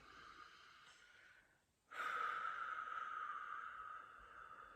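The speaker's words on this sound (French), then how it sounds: "tu fais 2-3 petites respirations, on y va" Two or three short breaths taken during a guided breathing exercise, a brief intake followed by a longer, steady breathy exhalation, close and soft with no talking.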